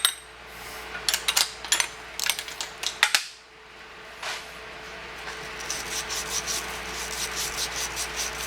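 Copper water pipe is scrubbed clean by hand before soldering, producing close, quiet bursts of scratchy rubbing strokes in quick uneven runs, a brief pause, then a softer, more regular series of scrubbing passes.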